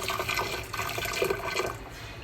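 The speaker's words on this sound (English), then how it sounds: "I'm gonna pour my vinegar and salt and sugar into this pitcher." Liquid brine of vinegar, salt and sugar pours into a pitcher for refrigerator pickles, a steady close splashing and gurgling stream without talk.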